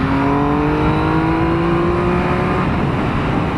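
A 2016 Triumph Speed Triple R motorcycle pulls hard under acceleration, its engine note climbing steadily in pitch as it revs, loud and close under a constant rush of wind noise, with no voices.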